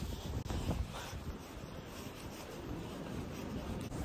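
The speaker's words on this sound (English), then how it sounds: "Very windy." Steady wind buffeting the microphone outdoors at a rainy horse show, a continuous low rumbling roar with gusty swells throughout and no voices.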